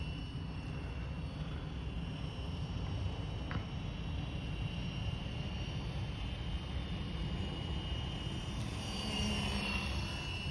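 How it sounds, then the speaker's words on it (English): Flywing FW450L RC helicopter flying outdoors, a steady whirring rotor and motor drone holding at a constant level throughout, fairly distant with broadband wind-like noise and no talking. "But the helicopter flies really, really good."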